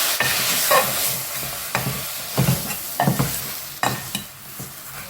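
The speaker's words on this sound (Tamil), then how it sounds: "இது நல்லா கிளறி கொடுத்துருவேன்" A spoon scrapes and stirs through a sizzling chicken gravy in a frying pan, with irregular scraping strokes over a constant frying hiss.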